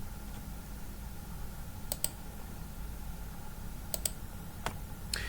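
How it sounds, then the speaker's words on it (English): A few sharp, quiet computer mouse clicks, single and in close pairs, over a faint steady room hum while a Shift key is held during FreeCAD sketching at a desk. "I'll do this by clicking the endpoint, then holding the Shift key and clicking the origin"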